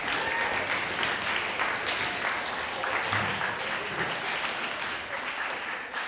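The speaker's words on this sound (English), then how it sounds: "everybody give Spencer a round of applause." A room of students at a National Honor Society leadership training applauds a classmate, with continuous, fairly even clapping from many hands that carries on for several seconds before easing slightly at the end.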